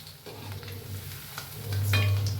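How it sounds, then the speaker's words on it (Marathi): Chicken 65 pieces fry in hot oil while being stirred, a soft bubbling sizzle with light scraping touches that grows somewhat louder toward the end. "तेलात तेवढी घालून घेऊया आपण तेलात फिरवून घेऊया"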